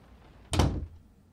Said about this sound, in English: the door opened up